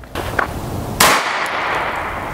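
A 9mm Hexagon Match round fired from a 16-inch Hi-Point carbine into 10% ballistic gel at about ten feet: one sharp, loud outdoor report with a ringing decay, after a faint click.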